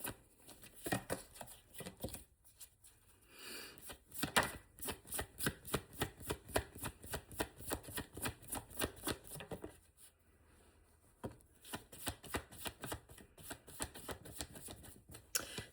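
Tarot cards being shuffled by hand, a steady run of crisp riffling flicks and soft slaps, close and fairly faint, with a couple of brief pauses and no talking.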